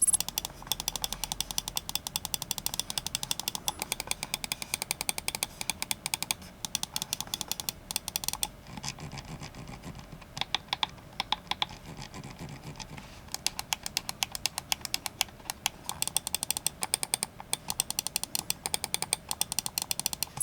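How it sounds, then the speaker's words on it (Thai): Rapid, dense series of crisp mouse clicks from an ATK Duckbill Ultra with FE optical switches, tapped in quick rhythmic runs with brief pauses, close and fairly quiet, with no talking. "ไปฟังเสียงคลิกกันนิดนึงครับ"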